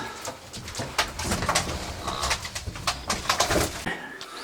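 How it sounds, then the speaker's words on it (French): Pigeons coo softly nearby in a low, throaty rhythm, mixed with light rustling and fluttering movement. "Ah, ils sont heureux les pigeons là."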